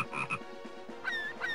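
Frogs in the Zelda game Phantom Hourglass croak in a rapid, repeated series, close and fairly quiet, with no voices.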